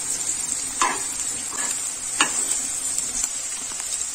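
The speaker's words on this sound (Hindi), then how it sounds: "हम अपना अंडा फ्राई कर लेंगे अच्छे से" Egg pieces fry in oil in a wok with a continuous bright sizzle, close and fairly loud, punctuated by a couple of sharp spatula scrapes as they are turned.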